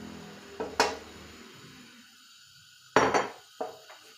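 A spoon scrapes and clinks against a pot while garlic is sautéed, a few distinct metallic knocks and scrapes separated by quiet gaps, close by with no talking.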